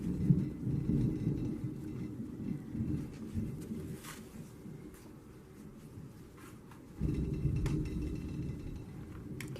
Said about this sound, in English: Can you hear that thunder?